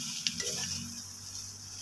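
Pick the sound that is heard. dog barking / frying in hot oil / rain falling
frying in hot oil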